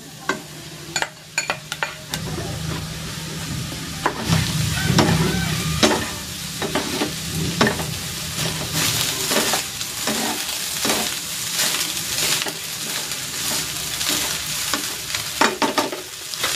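Cooked rice stir-fried in a pan for teriyaki chicken fried rice, a steady sizzle with repeated scraping and tossing strokes of a utensil against the pan, close and continuous.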